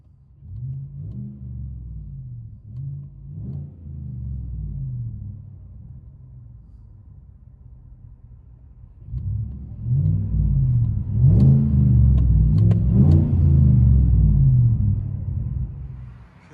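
Inside the cab of a 2015 Chevy Silverado with a 5.3L V8 and Flowmaster dual exhaust, low engine drone rises in short blips, eases back to idle, then climbs into a louder, sustained rev for several seconds before fading.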